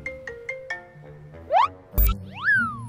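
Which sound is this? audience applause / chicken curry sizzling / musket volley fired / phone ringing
phone ringing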